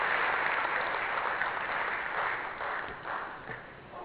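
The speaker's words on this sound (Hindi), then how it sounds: "तालियों से स्वागत करिए हमारे प्रिय मुख्यमंत्री जी का" A hall audience at Minto Hall applauds Chief Minister Shivraj Singh Chouhan at a ceremony honouring UPSC selectees, a thick, sustained roar of many hands that slowly thins and fades toward the end.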